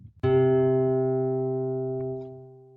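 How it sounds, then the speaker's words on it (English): A single low string is plucked and rings out clearly with rich overtones, slowly fading over a couple of seconds. "Now we go back to the whole string again and sound the lowest note."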